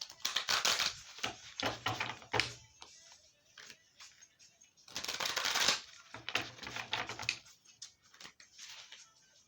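Tarot cards from a psychic deck being shuffled, two bursts of crisp riffling and flapping separated by a quiet pause, close and moderately loud.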